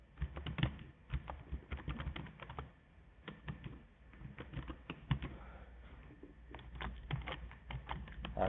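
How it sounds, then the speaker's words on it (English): Someone types fast on a computer keyboard, producing a dense, irregular stream of close, light key clicks with brief pauses, faint and steady throughout. "if I type right, I'm not square with my keyboard"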